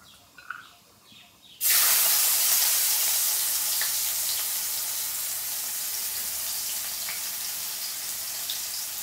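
Chopped onions dropped into hot oil already fried with cardamom and black cumin for a fish curry, breaking into a sudden loud, steady sizzle after a quiet start and holding strongly to the end.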